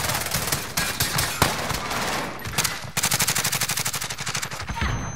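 Gunfire in a shooting video game, with dense, rapid automatic fire running throughout, culminating in a steady, evenly spaced stream of shots, moderately loud and near.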